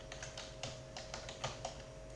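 Keys on a computer keyboard are typed in a quick, irregular burst of about a dozen soft clicks, close and faint over a steady electrical hum, with no talking.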